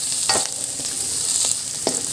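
Garlic, onion and bell pepper sauté in a hot pan for a tofu and bean sprout dish, a steady sizzle broken by a few sharp stirring scrapes, close and fairly loud with no talking.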